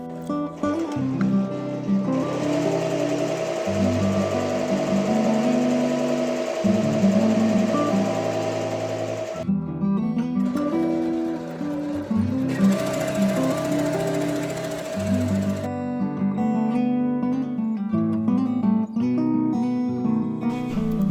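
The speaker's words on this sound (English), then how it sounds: "now we're going to start embroidering" An embroidery machine stitching a vintage design onto a jean jacket gives a loud, rapid mechanical hammering, running in long steady stretches with short pauses and changes in pace between runs, close up with no talk.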